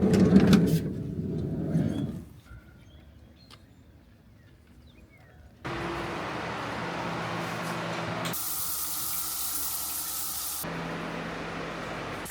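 Steady hissing spray of a shower running in a camper van, a continuous wash of water that starts partway through and holds at a constant level.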